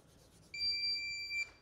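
A voltage tester gives a single steady electronic beep lasting about a second after a brief quiet pause, close and clear against a faint background.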